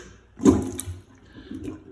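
A clogged household toilet being worked with a plunger, giving a sharp watery gush and slosh followed by softer gurgling surges of water in the bowl, close and fairly loud with no talking.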